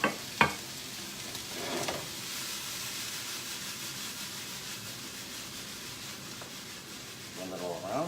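Yellow squash sizzles in a pan for pasta primavera with a soft, steady hiss. A few knocks and stirring scrapes break in near the start, and a quieter scrape follows toward the end.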